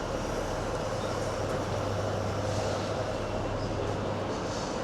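Train noise inside Glasgow Central station, around a ScotRail service, with a steady low rumble and broad hiss running evenly throughout, close and continuous, with no talk.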